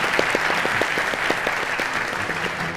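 A studio audience at a Turkish open-mic street interview show applauds steadily throughout, a dense wash of clapping with sharper individual claps standing out near the front.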